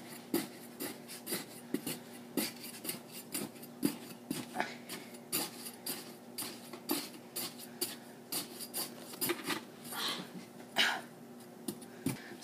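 A spoon scrapes and swishes in a rhythmic run of soft, close strokes while homemade laundry soap made with grated Fels-Naptha is stirred, with no talking.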